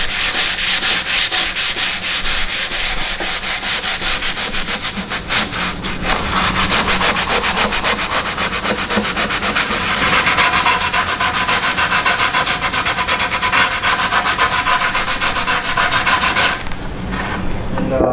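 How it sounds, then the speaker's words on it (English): Continuous, loud, close rubbing of sandpaper on a mahogany mid-century table, fast back-and-forth strokes with a short pause near the middle and a stop at the end. "I'm going to get the scalp edges sanded"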